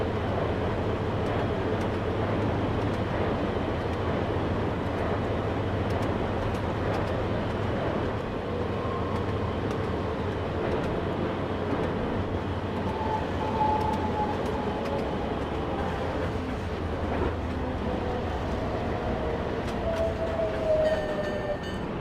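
A commuter train on the East Point Branch runs between stations in snow, a steady rumbling roll with wheel and track noise and faint rising and falling whines, loud and continuous throughout.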